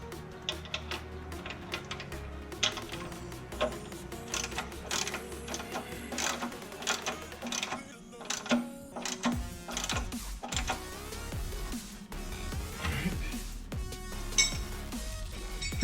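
A ratchet wrench clicks rapidly as a new intake manifold bolt on a GT40 intake is tightened, with bursts of ticking and metallic clinks alone and close up.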